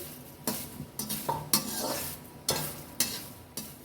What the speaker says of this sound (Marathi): कढीपत्ता पण तळून घेणार आहे मी.